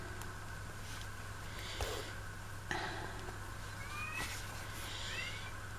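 A house cat meows a few times in a quiet indoor room, short thin calls with rising tones, fairly faint, over a steady low electrical hum.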